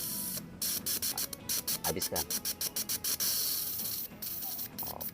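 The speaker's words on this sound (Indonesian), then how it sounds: "agak membaik setelah kita semprot langsung menggunakan selangnya dulu ya" A hose sprays a car's fuel injectors in a rapid series of short, sharp hissing bursts, nearly a dozen in quick rhythm, with a brief spoken word amid the workshop background.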